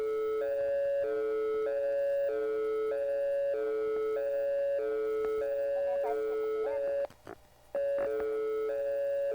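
A synthesized European police siren with reverb: a loud two-tone pattern that alternates steadily between high and low pitches, with echoing tails and a brief dropout near the end.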